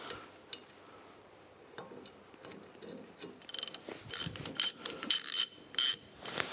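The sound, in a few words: ratchet tightening galvanized bolts on wheel hub upright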